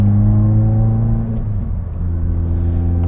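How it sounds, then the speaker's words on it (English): A 2016 Subaru WRX fitted with aftermarket parts burbles through its exhaust under heel-toe revving, a loud, steady low rumble with a brief dip in the middle before the engine note picks back up, close by. "I love that heel toe burble from the exhaust."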